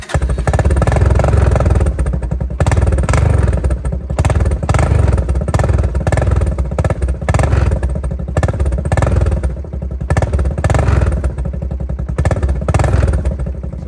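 Old Honda motorcycle engine running after a choke cable repair, a loud close idle with a pulsing, slightly uneven rhythmic chug and mechanical clatter that carries on without pause.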